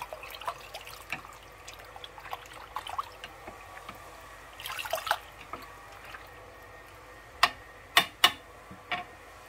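Spinach being rinsed in cold water gives quiet, sporadic splashes and drips, with a few sharper clicking drops toward the end and no talk.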